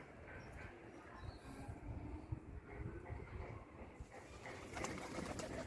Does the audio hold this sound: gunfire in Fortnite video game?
no